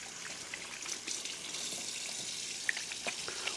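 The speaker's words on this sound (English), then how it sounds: "Wash your hands." A kitchen tap runs steadily for handwashing, a soft continuous hiss of flowing water with faint splashes, fairly quiet and without talk.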